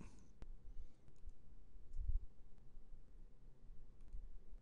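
Computer mouse clicking during Photoshop work, a few faint, sharp single clicks spaced apart over low room hum and desk handling noise.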